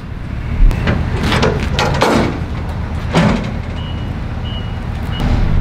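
A dump truck idles and rumbles loudly while a few short, faint reversing beeps sound in the middle, with clanks and thuds around it.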